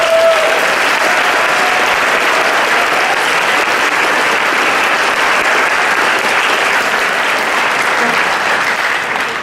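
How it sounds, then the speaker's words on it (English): An audience at an alumni hall of fame ceremony gives honorees a sustained round of applause, loud and even throughout with a faint crowd murmur underneath. "Let's give all of our honorees one more round of applause."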